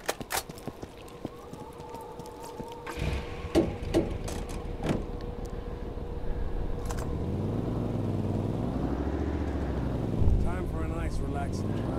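A vehicle engine in the video game Borderlands starts up and rises into a steady, wavering drone during the back half, after earlier clicks and knocks, with people talking over it.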